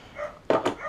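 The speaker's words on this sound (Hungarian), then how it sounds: "elnézést a háttérben való kutyaugatásért" A dog barks in the background as two quick, muffled barks in a row, moderately loud, during a PC build.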